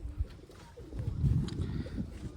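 Domestic pigeons kept indoors give low, soft coos, a brief murmuring run of calls heard close by with no voices over them.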